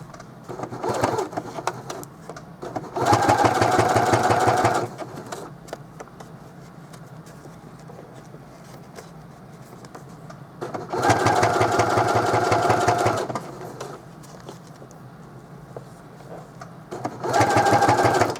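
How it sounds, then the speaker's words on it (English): A sewing machine edge-stitches along a fold of a placemat zipper pouch, running in three separate steady bursts of rapid whirring with quieter pauses between. "I'm stitching right along the edge of this fold"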